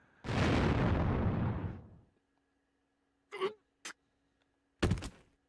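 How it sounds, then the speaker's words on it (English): An explosion in the video game Despera Drops bursts loudly at once and rumbles for about two seconds before fading, followed by a few short sharp pops and thuds after a brief silence. "there was a deafening explosion"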